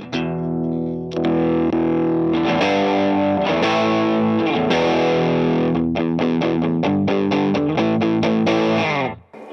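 Electric guitar played through an Antares overdrive pedal, loud distorted power chords that ring and change several times, ending in a quick run of choppy strums before cutting off.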